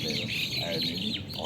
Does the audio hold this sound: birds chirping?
yes